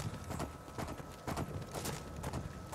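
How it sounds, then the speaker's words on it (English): Horse hooves thud in a running clip-clop rhythm across the Soul Cairn in Skyrim, a video game, the irregular beats loud and close with no speech over them. "maybe because this horse runs around like he's fucking drunk"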